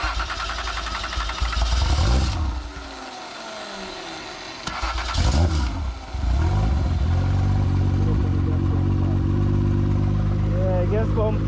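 Toyota 1JZ engine, fed by a borrowed gas pump, cranks and sputters in bursts, cuts out, then catches and settles into a loud, steady close idle; voices are heard talking during it.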